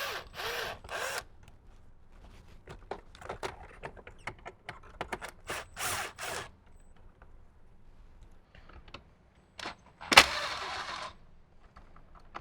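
Screws being backed out of the dash trim on a Jeep JL around the speedometer and tachometer, heard as short tool bursts and light scraping with quiet gaps and one sharp louder clatter near the end.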